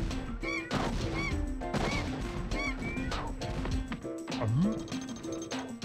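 Squawking and honking bird calls from the PS1 game Spyro 2: Ripto's Rage, repeated in a rhythmic pattern over a looping game music bed, with a swooping sound effect near the end.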